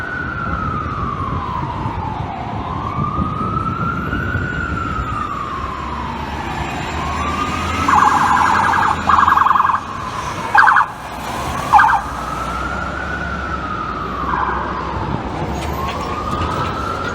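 NYPD police car sirens in Midtown Manhattan wail loudly and continuously in slow rising and falling sweeps over steady traffic rumble, with brief sharper electronic yelps in the middle.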